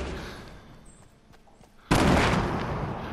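A grenade explosion in the video game Fortnite: a quiet stretch with faint ticks, then one sudden loud blast that booms and slowly fades.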